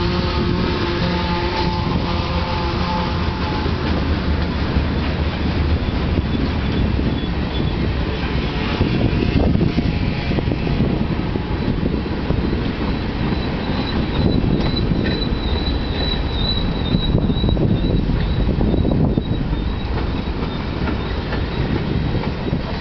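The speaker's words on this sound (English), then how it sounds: "About 100 trains every day." A train rolls steadily past at close range, loud and continuous, with rumbling wheels, rhythmic clatter over rail joints and a thin wheel squeal; no voices are present.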